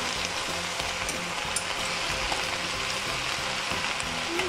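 Jalapeño chiles fry with cloves in a pan, a loud, steady sizzle that runs throughout with faint stirring ticks and no voices.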